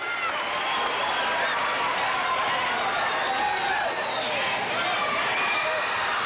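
Crowd cheering at a 1978–79 high school basketball game in a gym, a steady, loud roar of many voices filling the whole clip, with talk underneath.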